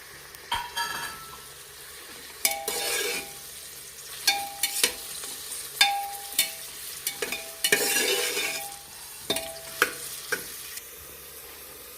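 Onions and curry leaves sauté in a pan while a spatula stirs and scrapes in loud, repeated strokes, with bursts of sizzling and metallic clinks between them.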